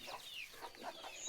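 Chickens on a farm cluck in a quick, faint series of short calls, with no voices heard.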